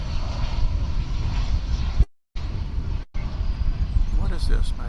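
American Airlines Flight 2272 airliner at DFW airport, its engine roar a broad steady rumble heard nearby, twice cut briefly by dropouts, with some talk underneath.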